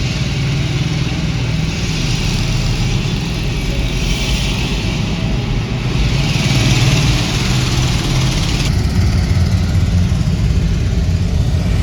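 Steady, loud construction machinery drone with a low rumbling engine tone and broadband roar, continuous throughout with no talking, echoing inside a road tunnel.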